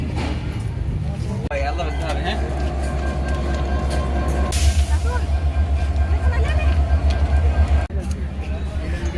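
The Drutajan Express rumbles into Santahar rail junction with a steady low drone of wheels and carriages, a sharp burst of brake or air noise midway, and people talking throughout.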